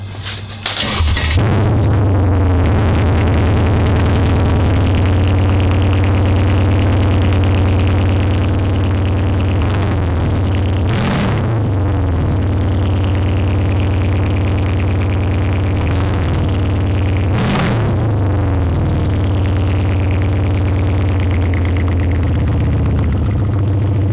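Mercedes CLS63 S with the exhaust removed cranks and fires up, then settles into a loud, deep, rumbling idle that holds steady for over twenty seconds, with a couple of brief blips of revs along the way.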